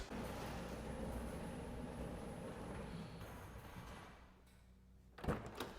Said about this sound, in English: I need to put the garage door down, actually.